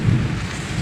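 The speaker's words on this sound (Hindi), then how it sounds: "आवाज़ देखिए कितना कर रहा है बादल।" Low rumble of thunder during a heavy downpour, a deep rolling boom heard close, with rain noise around it.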